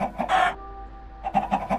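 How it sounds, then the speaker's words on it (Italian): Minecraft chicken from the video game, a few short clucking calls in quick bursts, loud and close with no other sounds. "c'è questo gatto che ammazza una gallina di Minecraft"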